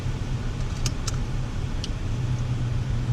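Steady blower hum of the air conditioning inside a 2020 Dodge Charger SXT, a constant low drone filling the cabin with a few faint clicks and jingles over it.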